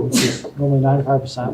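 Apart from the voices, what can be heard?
sneeze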